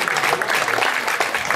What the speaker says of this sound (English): Just give Jim a round of applause there,